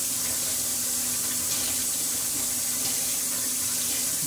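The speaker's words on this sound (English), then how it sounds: "run the tap as hot as it'll go." Hot water runs steadily from a kitchen tap, a constant hissing splash at even loudness, close by and with nothing else over it.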